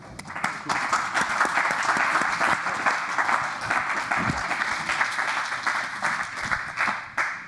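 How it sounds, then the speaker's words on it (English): Audience applause at a conference session on Japan's international security cooperation, fairly close, dense clapping that holds steady for several seconds before tapering at the end. "give a big applaud for the first part of the presentation"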